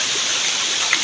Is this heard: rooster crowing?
no